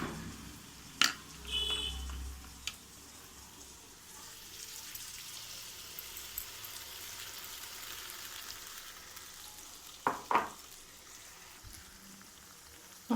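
Masala paste with coconut frying and being stirred in a pan: a soft, steady sizzle under a few sharp clicks and scrapes of a spoon against the pan, quiet and close, without speech.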